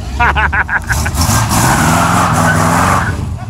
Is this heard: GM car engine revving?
yes